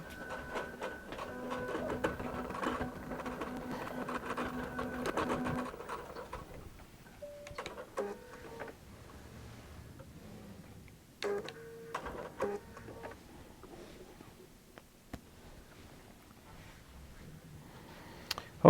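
A QBOT V3 quilting machine stitches appliqué, giving a rapid mechanical whirring chatter for the first few seconds, then quieter intermittent clicks and short motor bursts.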